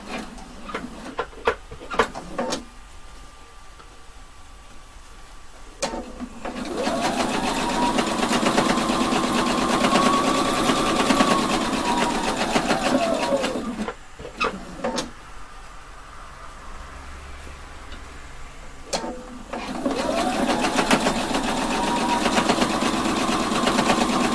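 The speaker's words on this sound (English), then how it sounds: "Make sure you only sew in the top part, not through all layers." Sewing machine stitching a bellow pocket, running in three long steady bursts separated by short pauses and clicks of handling fabric, close and fairly loud with no talking.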